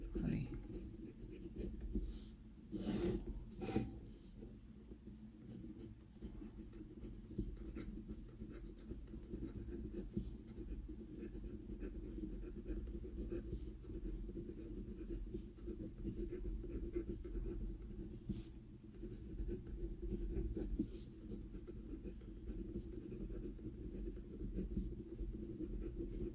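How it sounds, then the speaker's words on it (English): A Faber-Castell Loom gunmetal fountain pen with a broad nib writes on paper with a soft, faint, continuous scratching that runs for a long stretch, with a few louder taps near the start. "The writing with this pen is awesome. It has got a good line width in broad and writes very well and writes very wet."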